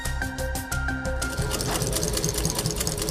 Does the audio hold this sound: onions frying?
no